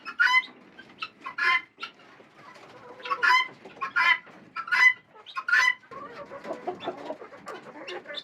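Hens laying eggs inside a chicken house give intermittent clucks and short squawks, several birds calling in uneven bursts close by, with quiet gaps between calls.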